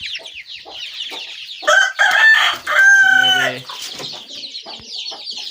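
A Lasani rooster crows loudly and nearby in a long cock-a-doodle-doo, with softer clucking and hen chatter before and after, and a brief voice speaks amid the birds.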